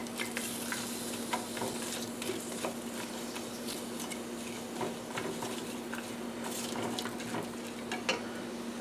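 Chopped homegrown onions sizzle and crackle steadily in olive oil warming in a pan, a continuous frying hiss with occasional stirring clicks and scrapes, close and moderately quiet with no talking.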